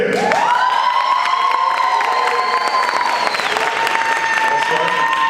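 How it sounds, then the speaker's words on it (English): Audience at a Black History Bowl quiz competition applauding and cheering for junior teams, loud continuous clapping with whoops and shouts from young voices, including rising whistle-like cheers, close and energetic throughout. "As you hear your names, junior teams, if you would please stand and you all cheer them on."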